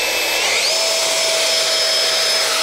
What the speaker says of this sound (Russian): Заводим фен, держим в руках, прилично.